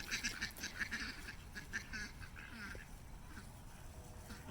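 Ducks at feeding time in a barn quack in quick bursts over steady background noise, the calls clustering early and thinning out toward the end.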